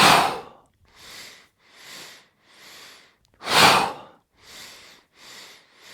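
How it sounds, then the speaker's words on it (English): Breathwork in a yoga session: a set of three short, soft nasal inhales, then one strong, forceful exhale. The pattern repeats rhythmically, close and loud, with no talking. "3 times a breath in and 1 strong exhale."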